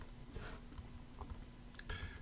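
Quiet keystrokes tapped on a computer keyboard while coding, a few soft irregular clicks close by over a low background hum.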